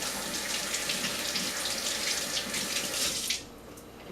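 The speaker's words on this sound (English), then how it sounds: "So I'm going to rinse my hands quickly." A kitchen tap runs steadily while hands are rinsed under it, a close, bright splashing rush of water that stops abruptly near the end, leaving quiet room tone.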